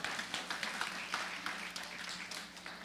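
Brief, moderate clapping from a church revival congregation, a few seconds of steady overlapping hand claps in a hall with no voices over it.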